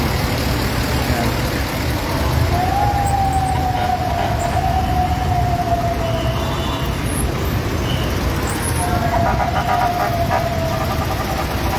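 A fire truck siren wails steadily in heavy traffic on Pasig Boulevard near a residential fire in Kapitolyo, Pasig, rising above a loud, constant road rumble, with a second wail starting later on.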